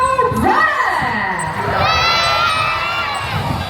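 A crowd of people at an event in the Philippines shouts together loudly on a count of three, a sustained burst of cheering and yelling with excited voices rising and falling over nearly four seconds.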